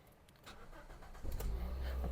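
A Toyota Avensis with a 1.8 engine starts up, the starter's brief crank catching into a steady, close idle rumble that grows louder and holds through the rest of the moment.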